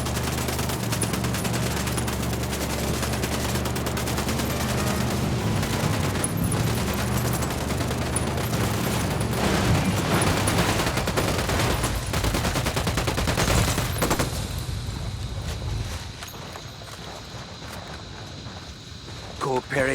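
Dense, continuous gunfire from shooting enemies in Ghost Recon Wildlands: loud automatic bursts and overlapping shots pound without pause for most of the stretch, then thin to scattered noise near the end, with voices talking over it.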